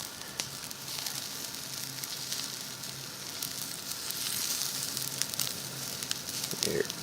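Meat sizzles on hot coals in a steady, crackling hiss that holds throughout, close and fairly loud, with occasional sharper pops and no talking.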